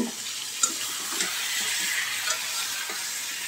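A spoon stirs beef biryani in a pot, giving a steady close-up hiss and scrape with a few soft knocks, with no voices over it.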